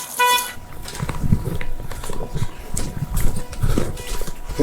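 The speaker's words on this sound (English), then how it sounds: "Is that my car beeping?" A short car horn toot at the start, followed by outdoor noise with scattered thumps and rustling, no clear talk, during a police response to a bank robbery.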